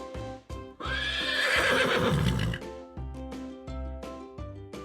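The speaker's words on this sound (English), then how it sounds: "it's the horse." A horse neighs in a loud, close, drawn-out whinny that rises and then falls, set between rhythmic hoof clip-clops before and after it.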